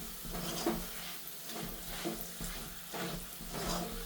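Gundar pak mixture roasting in a pan gives a steady, soft sizzle with occasional scraping stir strokes, close and continuous, no voices.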